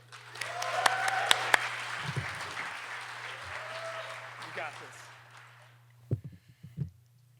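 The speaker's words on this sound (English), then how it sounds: "Let's give a round of applause for Nokkie Lipsey." An audience at a talk event applauds a speaker in a sustained round of clapping that swells and then fades over several seconds, with a few voices and a low steady hum beneath.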